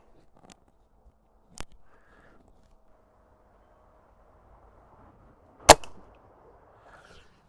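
Air rifle shots at a hunter field target set at 20 yards outdoors, two sharp isolated cracks several seconds apart, the second louder, with near silence and faint handling noise between.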